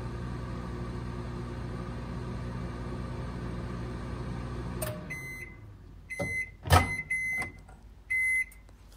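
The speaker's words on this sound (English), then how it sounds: "put it into the microwave," A microwave oven heating a homemade salt heating pad hums steadily for about five seconds, then stops, followed by a door clunk and a series of short electronic beeps nearby.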